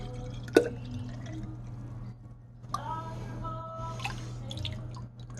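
Liquid dripping from a flask while making blueberry wine, a few soft drips and splashes over a steady low hum, close by and fairly quiet.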